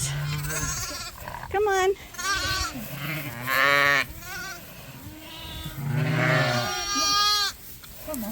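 Ewes and lambs bleat repeatedly, close and loud, with overlapping calls of varied pitch while a person speaks briefly among them.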